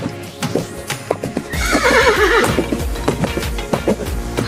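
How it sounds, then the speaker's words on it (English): A horse whinnies loudly in a long wavering neigh at mid-clip, with faint hoof clip-clops and other short animal noises before and after. "Horse."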